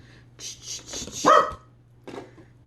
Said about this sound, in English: Olive, hey, Olivers, don't bark at the Caitlin